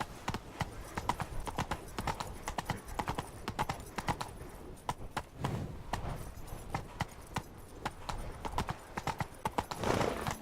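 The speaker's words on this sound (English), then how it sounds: "The horse must be terribly glad." Horse hooves clip-clop steadily at a walking pace in The Witcher video game, set in Beauclair, loud and close with a brief whinny, no speech over them.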